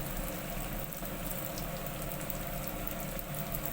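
Doughnut dough fries in a pot of hot oil, giving a steady, dense bubbling hiss that runs continuously and close by without any talk.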